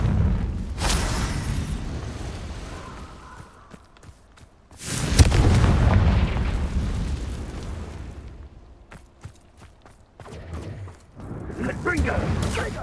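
Confringo spell explosions in the video game Hogwarts Legacy: two big booming blasts with rumbling tails, then a smaller burst near the end, with spoken voice in between.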